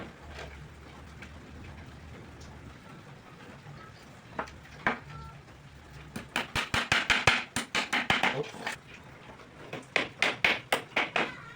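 Nails hammered through a screen into a wooden frame: a few scattered taps at first, then quick runs of sharp, ringing strikes, close and fairly loud.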